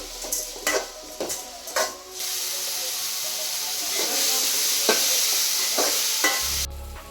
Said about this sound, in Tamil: தக்காளி ஆட் பண்ணி வதக்குறேன். தக்காளி சீக்கிரம் வேகிறதுக்காக உப்பு சேர்த்து வதக்கிக்கிறேன்